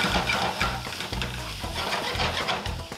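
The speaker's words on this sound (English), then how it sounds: "So our fried rice is almost ready." Kimchi fried rice made with steamed rice sizzles loudly in a hot pan while being stirred, the constant frying hiss broken by repeated scraping and tossing strokes close up, with no voices.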